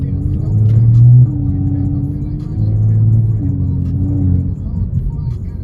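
BMW M4 F82 fitted with a Strada Performance exhaust, heard from inside while driving: a steady low engine drone with two swells of louder rumble, constant under the cabin noise.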